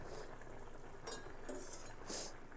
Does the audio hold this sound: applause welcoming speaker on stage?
no